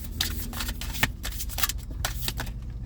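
A deck of tarot cards is riffled and shuffled by hand in quick, crisp bursts of flicking and slapping, close up and fairly quiet, with no voice present.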